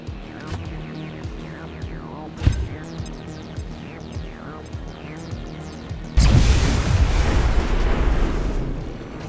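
Bombs exploding in the XCOM 2 tactical game: a sharp blast around the middle, then a heavy, sustained roaring explosion that rumbles on loudly to the end, over a busy background of game effects.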